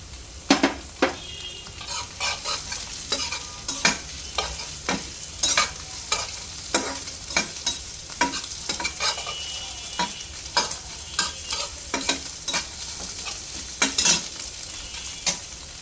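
Dry vegetables stir-fried in a pan for Korean super spicy Mr Noodles: a steady sizzle broken by frequent sharp scraping strokes of a spatula against the pan, close and fairly loud, with no voices.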